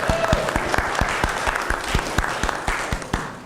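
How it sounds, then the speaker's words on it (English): A small audience at a character-creation workshop claps in a brisk, even patter of close hand claps that holds steady for a few seconds, with a voice briefly audible at the start. "Thank you for applauding."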